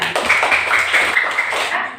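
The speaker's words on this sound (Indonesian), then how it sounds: "tepuk tangan untuk Alipia" Classroom applause for a student, a dense patter of many hands clapping at once, close and fairly loud, fading quickly at the end.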